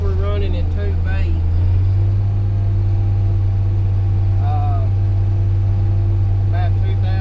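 A John Deere 8560 tractor engine runs steadily at about 2,000 RPM travel speed in 2B while pulling a Reynolds 8-yard pan. It makes a loud, constant low drone heard from the cab, with someone talking over it.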